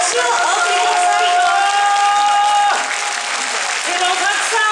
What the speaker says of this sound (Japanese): 改めて大きな拍手をお送りください。